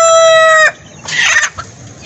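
A hen settling down to lay an egg at night gives a loud sustained tonal call that cuts off, then a short burst of softer clucking follows in a quiet space.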